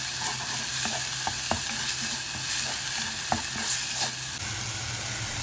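Onions with tomato paste and spices of turmeric, garlic, cumin and coriander frying in a pan, a steady close sizzle broken by occasional scraping stirs, with no talking.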